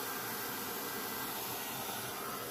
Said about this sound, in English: There we go, and we're just going to heat emboss that.